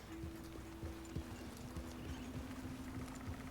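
Horse hooves clip-clop in Red Dead Redemption 2 as a steady, moderately quiet run of hoofbeats, with a sustained tone underneath and no talking.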